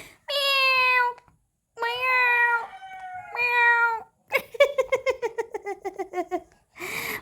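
A cat gives several drawn-out meows in a row, then a rapid run of short chirping, stuttering calls, close and clear with quiet gaps between sounds.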